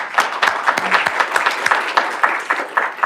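An audience at a candidates' forum for a US House district claps, a dense, moderately loud applause of many hands sustained evenly without talk.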